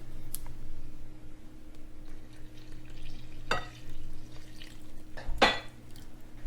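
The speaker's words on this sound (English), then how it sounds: "Now we're going to mix this up a little bit" Ingredients for a vegan gyro being stirred and mixed in a pan or bowl after vegetable broth is added, with scraping utensil strokes and a few sharper clinks of metal against cookware over a low steady kitchen hum.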